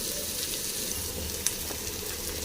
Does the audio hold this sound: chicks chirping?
no